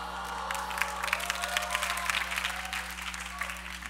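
Audience applause and laughter during a sermon at a church summer retreat, a steady burst of clapping that rises and then gently tapers over an electrical hum.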